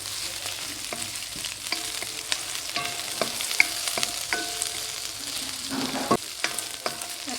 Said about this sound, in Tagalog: Sinasama ko sa paggisa yung ating lemongrass.